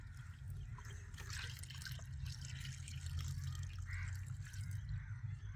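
Orange peel liquid poured from a jug through a straining cloth into a container of water, a faint continuous trickle and patter of dripping over a low steady hum.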